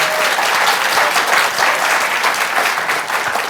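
Audience applause after a speaker at a panel on journalism, loud sustained clapping from a large room that runs unbroken throughout and tapers only slightly near the end.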